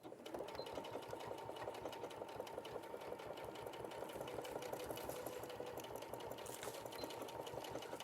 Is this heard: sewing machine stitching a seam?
yes